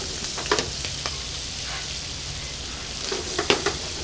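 Prawns and scallops fry in butter in a hot pan, a steady broadband sizzle running throughout with a few sharper pops and crackles near the start and end; no talking.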